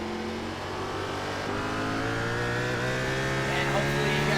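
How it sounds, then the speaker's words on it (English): Race car engines drone loudly in the iRacing video game at Martinsville, a dense pack of sustained engine notes rising slightly in pitch as the cars accelerate, with commentators talking over the noise. "we're having some complaints over audio issues with the cars being a little bit too loud"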